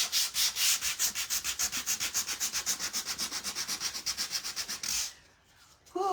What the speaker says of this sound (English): I'm just gonna take the sander and I'm just gonna kind of rough it up, give it that vintage look